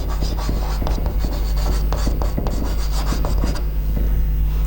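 Chalk or marker rubbing and scratching across a board during a computer science class, a steady close scraping with short repeated strokes, fairly loud and continuous, with no voices.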